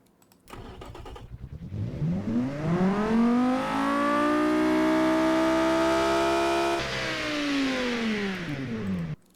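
A 4-litre V10 truck engine of almost 400 horsepower in the Automation car-building game cranks, catches and revs up, holding a high, harmonic-rich drone for several seconds before dropping back.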